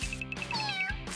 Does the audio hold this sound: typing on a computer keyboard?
no